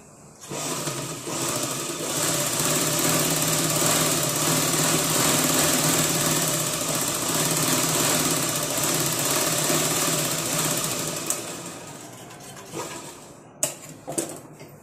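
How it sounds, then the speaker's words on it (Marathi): A sewing machine runs a fast, steady stitch along a fabric strip for a blouse, loud and close for about ten seconds, then stops, followed by a few handling clicks. "आता आपण या पट्टीवर पण एक टीप मारून घेऊया."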